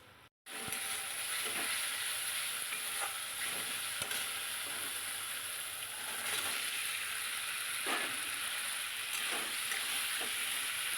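Chicken mince sautéing in a pan with potato and papaya for a keema soup, a steady broadband sizzle throughout with occasional stirring scrapes and clicks, close and continuous, no talking.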